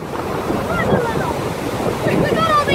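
Ocean waves breaking at a surf spot, a loud continuous wash of surf and rushing water with heavy wind buffeting the microphone, close and unbroken throughout.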